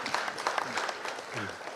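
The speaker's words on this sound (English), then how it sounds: "he deserves a round of applause for that" An audience at an event on LGBTQ non-discrimination in Sri Lanka applauds a minister, with steady clapping and murmuring voices mixed in.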